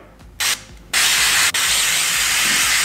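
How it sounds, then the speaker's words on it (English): Several hissing sprays from an aerosol can of cooking oil: two short bursts, then a longer sustained spray with a brief break, loud and close. "I'm gonna take some spray oil."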